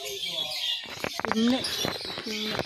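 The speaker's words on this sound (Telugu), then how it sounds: "ఆఫ్రికన్ బూడిద చిలుక ఆఫ్రికన్ గ్రే ప్యారెట్" An African grey parrot at a zoo park gives short whistled calls and chirps close by, with people talking around it.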